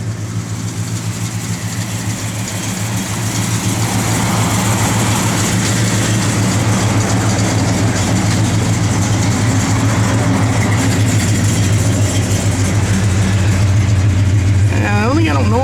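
A 1969 Dodge Dart GT V8 with a lumpy cam idles close by, a loud steady low rumble with strong throbbing bass that swells slightly, and someone talks over it.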